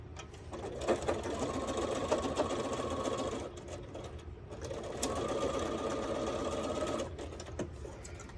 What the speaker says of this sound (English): I'm just gonna sew this piece, making sure not to catch the elastic